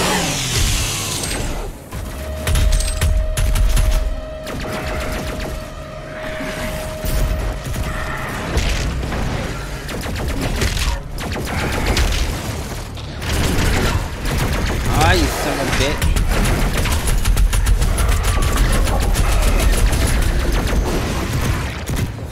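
Rapid, loud gunfire rattles through a Doom Eternal fight against Arachnotrons, with mechanical clanks and bursts layered over a heavy game soundtrack, while a player talks intermittently.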